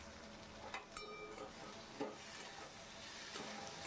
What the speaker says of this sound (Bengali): টমেটোটা ভালো করে নাড়াচাড়া করে নিচ্ছি যতক্ষণ না পর্যন্ত এটা নরম হয়ে যায়